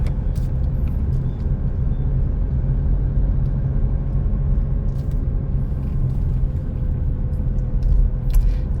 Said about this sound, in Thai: น้องเย็นก็ทำหน้าที่ขี่รถหลอกค่ะ